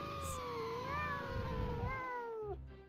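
Cartoon cat meowing in an SMG4 animated news parody, a long drawn-out wavering meow followed by a second rising caterwaul, close and clear over a faint background.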